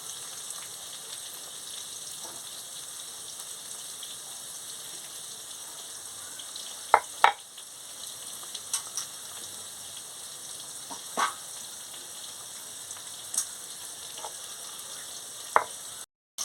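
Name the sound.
okra frying in oil in a pan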